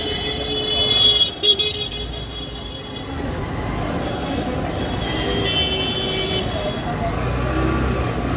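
Vehicle creeping through a crowded market street in Varanasi between Dashashwamedh and Godauliya, with steady traffic and crowd noise and a short horn toot near the start.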